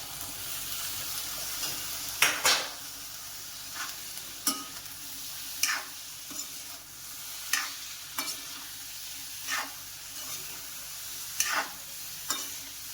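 A spoon scrapes and stirs a pigeon pea curry in a pan in separate close strokes about every second or two, over a soft, low sizzle, with no talking.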